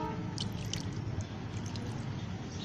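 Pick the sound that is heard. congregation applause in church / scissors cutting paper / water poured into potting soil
water poured into potting soil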